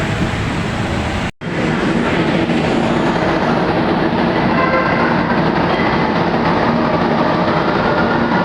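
An MRT train rumbles past close by with a loud, continuous roar and rattling wheels, briefly cut by a dropout before the noise resumes.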